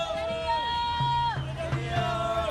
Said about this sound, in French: Applaudissements, cris de joie, concert de klaxons dans Khartoum après des semaines de pleurs.